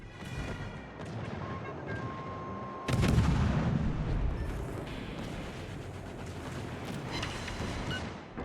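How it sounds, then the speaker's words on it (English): Naval guns in World of Warships fire at an enemy destroyer, a heavy booming salvo landing around the three-second mark amid a steady rumbling sea-battle backdrop, with scattered sharper reports afterward. "Start shooting at this destroyer"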